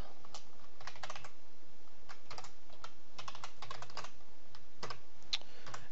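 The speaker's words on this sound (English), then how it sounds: "while I'm typing this" Typing on a computer keyboard during programming work: quiet, irregular bursts of clicking keystrokes with short pauses between runs, close but soft.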